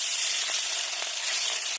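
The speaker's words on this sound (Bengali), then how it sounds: "কড়াইতে তেলটা গরম হয়ে গেছে, আমি মাছে লবণ হলুদ মাখিয়ে রেখেছি, এবার আমি মাছটা দিয়ে দেবো, দিয়ে ভালো করে আমি ভেজে নেবো।" Fish coated in salt and turmeric frying in hot oil in a kadai: a steady, loud, bright sizzle hisses evenly up close, then cuts off abruptly.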